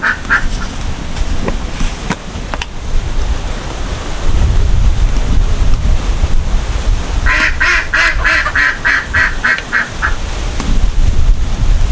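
Strong wind blows across the microphone outdoors while fish is cooked in mustard oil, a loud broadband rumble and buffeting throughout, with ducks quacking repeatedly in the middle.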